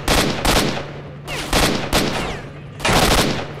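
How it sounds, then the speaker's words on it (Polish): Gunfire from the shooter S.T.A.L.K.E.R. Shadow of Chernobyl: five loud sharp shots with echoing tails, spaced irregularly about half a second to a second apart, close and alone. "Muszę chyba strzelać trochę niżej, to wtedy trafię."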